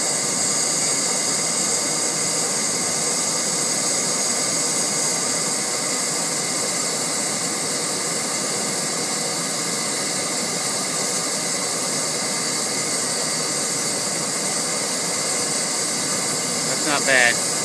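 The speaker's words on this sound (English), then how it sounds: "Four blower, full bore." A bilge blower forces air into a gas-fired swirl burner running at full bore, producing a constant, loud, close roaring hiss with no letup throughout.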